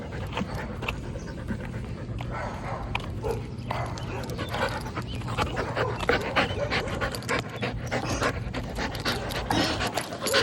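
A dog on a walk pants rapidly and close while chewing and tugging at its leash, with small whimpers and rustling jangles throughout.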